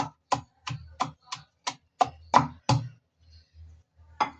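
Mashed vegetables being crushed on a stone grinding slab, heard as a steady run of about nine sharp, evenly spaced knocks, then a short low rumble and one more knock; close and alone, with no voices.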